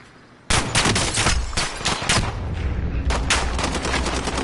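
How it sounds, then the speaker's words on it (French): Rapid gunfire in Call of Duty Warzone, loud and close, dense bursts and repeated shots running almost continuously after a quiet start. "Tire sur Greg"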